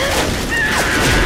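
The Boomer zombie explodes in the Left 4 Dead video game: a loud, dense burst of noise amid chaotic game sounds, lasting about a second.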